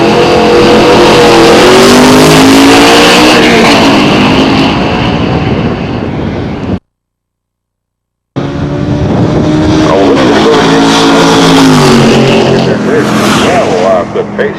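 Chevrolet Camaro race cars, including an older gray Camaro SS and a late-model Camaro Z28, roar loudly past on a road course, engines revving and shifting, cut by a brief silence before racing resumes.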